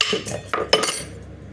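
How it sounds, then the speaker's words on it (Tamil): Broken ice cubes tumble into a mixer jar while tender coconut sharbat is being made, giving two or three close, sharp clattering knocks with brief rattling clinks between them. "இந்த ஐஸ் கட்டியை உடச்சி உள்ளே போடணும்."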